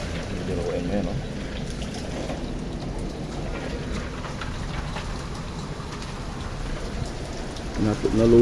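Heavy rain pours steadily in Madrid during a storm with hail, a dense continuous hiss with patter close by, while people talk faintly under it; a louder clatter builds at the very end.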